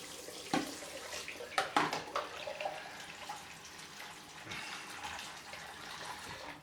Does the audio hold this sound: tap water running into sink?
yes